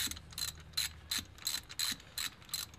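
A ratchet wrench clicks in quick repeated bursts while spark plugs are loosened from a car engine during a compression test, about seven close, crisp ratcheting runs in steady rhythm with no talking.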